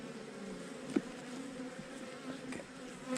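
Honeybees buzz steadily around an open hive during a one-week hive check, a dense agitated hum with a few individual bees passing close by the head, no talking over it.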